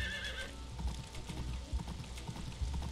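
Horse hooves clip-clop in the Story of Seasons farming video game, a quiet steady trot with a brief whinny-like chime at the start, all under soft background game sound.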